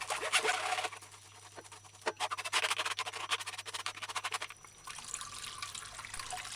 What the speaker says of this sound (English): pour the water through the strainer into the bowl, removing remaining juice that is on the seed